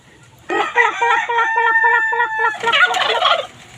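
A turkey in a farmyard flock with chickens gobbles loudly up close, a rapid rattling burst of repeated notes, followed by a second shorter gobble.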